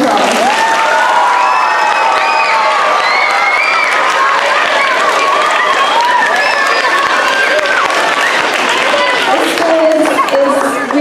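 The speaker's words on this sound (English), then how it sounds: "Can we give her a round of applause?" Students and a school audience clap and cheer loudly for a departing teacher, with excited children's voices, shouts and chatter rising over the applause, close and dense throughout.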